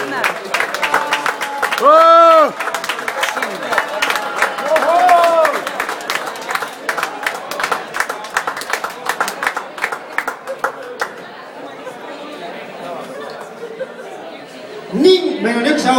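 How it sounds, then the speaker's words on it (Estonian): An audience at a karaoke award ceremony applauds with scattered hand claps and crowd chatter, while voices call out over it and a few brief shouts or laughs rise near the middle and end. "Aplaus kestab, aplaus kestab, aplaus kestab."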